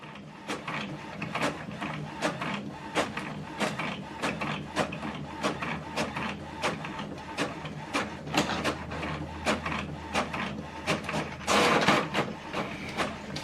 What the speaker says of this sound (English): It will also show you your printing job is on the way.